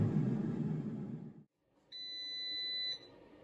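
Low rumbling fades to quiet, then a single sustained electronic beep from a Cosori air fryer sounds for about a second.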